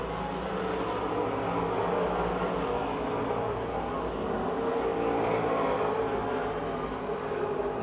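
Race cars roar steadily at Pennsylvania Motor Speedway on the final lap, a dense continuous engine drone from the pack with no pauses.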